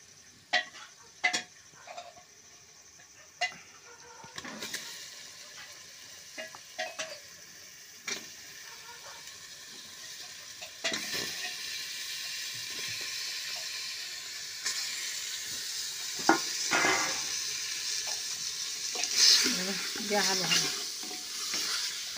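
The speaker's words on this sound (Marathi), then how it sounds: "त्यांना परतू घ्यायचं मसाल्यात." Chicken being stirred and fried in a masala in a home kitchen, with a steady sizzle and hiss building up under repeated scraping and stirring clatters, close and moderately loud.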